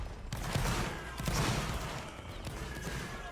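A ragged volley of musket fire from a reenactment battle crackles in dense overlapping bursts, loud and continuous across the field with little pause between shots.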